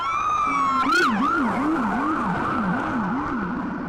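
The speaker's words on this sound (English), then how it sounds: "You can hear sirens coming." A wailing emergency vehicle siren cycles up and down steadily during the aftermath of a mass shooting in Las Vegas, loud and sustained over a constant traffic-like rumble, with no voices.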